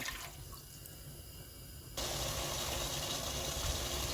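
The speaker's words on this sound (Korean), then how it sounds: "배추가 잠길 만큼 1리터 정도 물을 부어주고" About a liter of water is poured over chopped napa cabbage in a pot, a steady close splashing stream that grows fuller and louder midway.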